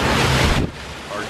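Strong cold wind roars by the water on a boat trip, loud buffeting against the microphone, with surf noise underneath, then abruptly dropping to a softer rush.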